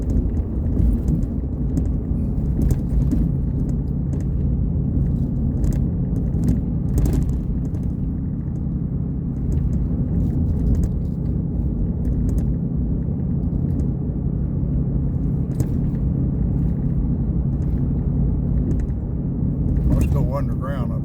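Car driving a road north out of Fairbanks toward the Arctic Circle, a steady low tyre-and-engine rumble with occasional bumps and knocks, continuous throughout.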